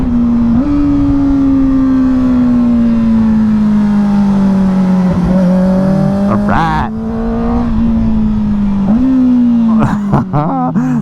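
A Kawasaki ZX-4RR sport motorcycle with its restriction removed accelerates hard at full power, its loud, high engine note climbing steadily through the gears with brief dips at each shift, close and dominant throughout.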